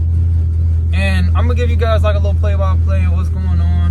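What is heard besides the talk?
car engine running with open exhaust dumps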